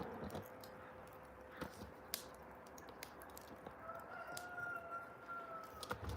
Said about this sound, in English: The rooster's singing.